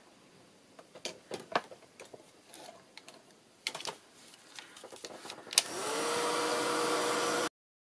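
Hair dryer switched on to dry artwork for artist trading cards, a steady loud blowing roar filling the last two seconds after a run of soft taps and handling clicks.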